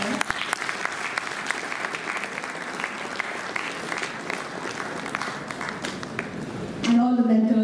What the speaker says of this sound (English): Please give a big round of applause to her.